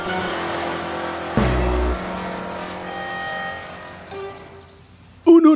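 A cartoon car engine revs and pulls away, a loud motor drone with a sharp burst partway through, fading off before a brief bright sound at the end.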